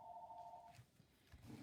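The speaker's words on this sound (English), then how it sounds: "Sorry for the phone ringing" A telephone rings indoors in a card-making craft space, a steady electronic ring tone heard faintly and briefly before fading into quiet room noise, with no talking.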